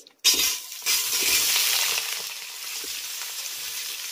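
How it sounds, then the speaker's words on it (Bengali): Winter vegetables (sweet potato, pumpkin, carrot and potato) drop into well-heated mustard oil and start frying, a sudden close sizzle that settles into a steady hiss. "আর এবার আমি তেলের ভিতরে ভেজে নেব কিছুটা পরিমাণে সবজি।"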